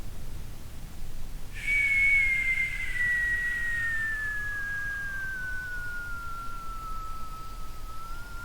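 A person whistles to imitate a falling bomb, a single long clear tone that starts high and slowly glides downward for several seconds, close and alone over faint background hiss.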